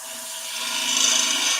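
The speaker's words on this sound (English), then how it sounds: "And you get bevel rubbing." A gouge on a wood lathe cuts a cabriole leg with its bevel rubbing, giving a steady, close rasping whir that slowly swells in loudness over its brief span.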